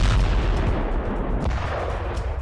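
A Russian missile strike on a camp produces a heavy, rumbling blast heard from a distance, with a low boom and dense roar that fades slightly across a couple of seconds.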